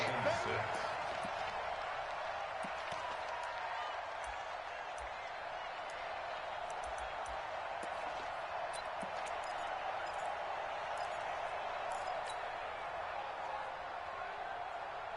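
Stadium crowd noise from a PS4 football game broadcast, a steady, dense roar of fans building ahead of a big third down, sustained at an even level throughout with no talk over it.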